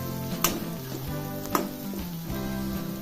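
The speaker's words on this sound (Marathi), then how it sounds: "आता डाळ भाजत आलेली आहे थोडीशी परतून घ्यायची" Soaked toor dal, with black peas, being stir-fried in a pan for a jackfruit vegetable dish, giving a steady close sizzle with a couple of sharp stirring clatters.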